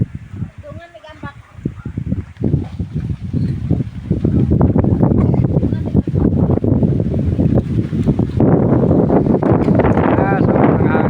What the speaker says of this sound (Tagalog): Ah, sobrang hangin.